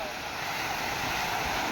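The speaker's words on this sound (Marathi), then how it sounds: "आवाज बघा कसा येतोय समुद्र" Sea waves at Worli Seaface in Mumbai wash in a steady, broad rushing roar with wind noise on the microphone, continuous and fairly close throughout the short stretch.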